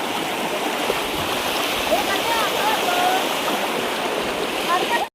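A fast-flowing village river at Shirgaon, swollen after heavy rain, rushing in a loud, continuous roar close by, with faint voices mixed in before it cuts off abruptly.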